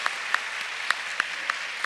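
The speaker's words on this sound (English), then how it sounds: "let's give one more really big round of applause for our second grade speech meet qualifiers" Scattered, sparse clapping from a small school chapel audience applauding second grade speech meet qualifiers, a few distinct claps spaced out over a quiet room with no voices.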